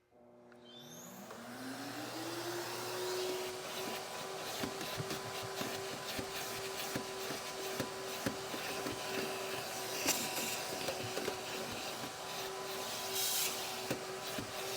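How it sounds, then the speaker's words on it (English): Detailing vacuum unit with its hose running during a Corvette C5 interior clean, a motor spinning up and settling into a steady whine and hum, with rubbing and scraping of the hose and nozzle over surfaces throughout. "I have no complaints whatsoever with the recoil of the hose, to the suction and power of the unit."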